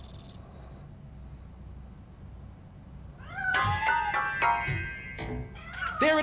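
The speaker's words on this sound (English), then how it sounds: "That cat must be hiding inside. Let me lure it out." A cat in the video game Robocop: Rogue City meows repeatedly after a short quiet stretch, a series of clear, close, drawn-out calls that grow louder and more insistent toward the end, with no talking.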